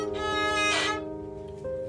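Steel strings scraped by a beginner's unsteady bow on a string instrument, a buzzy sustained tone with harmonics that swells into a harsh, scratchy burst, then thins and wavers before a fresh stroke near the end.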